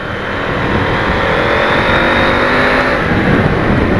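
Riding a KTM 890 Adventure motorcycle with an aftermarket AliExpress exhaust gives a continuous, loud, close engine drone with wind rush that swells slightly and holds steady throughout, with no voices.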